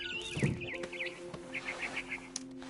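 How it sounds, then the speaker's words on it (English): A barn swallow near a window gives a series of faint, quick, high chirps in short repeated bursts against a quiet background. "Then I heard chirping outside my window. It It was a barn swallow going back to her nest."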